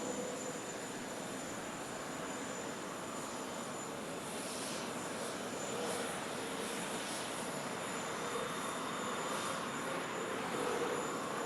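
A Boeing 777X airliner flying at the Dubai Airshow, producing a loud steady broadband jet engine roar with a high whine that holds throughout, no talking.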